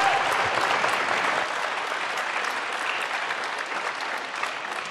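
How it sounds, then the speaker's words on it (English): Sustained audience applause at a university naming anniversary event, a dense steady patter of many hands clapping for the full stretch, fairly loud and close, with no speech over it. "One more round of applause for John, Jeff, and Larry, and Beth."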